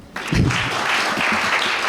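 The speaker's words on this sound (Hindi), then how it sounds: "चलो ताली बजाओ" An audience claps at a live stage show of romantic songs, a dense burst of applause starting abruptly and continuing loud and steady to the end.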